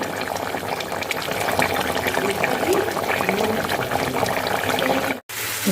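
Desi (country) chicken curry cooks in a pot with a steady, close bubbling and sizzling hiss that runs almost unbroken, with a brief drop near the end.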